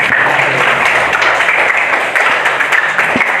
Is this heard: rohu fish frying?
no